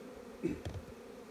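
Honeybees buzzing around an opened beehive during spring hive inspection in Australia, a short burst of close droning hum rising briefly over a quiet background.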